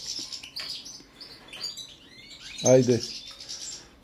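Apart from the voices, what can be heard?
Balkan goldfinches singing in aviary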